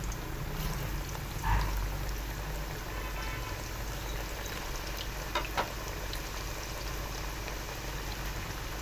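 Potato slices frying in hot ghee for homemade salted chips, a steady loud sizzle running throughout with a brief burst of bubbling as more slices go in.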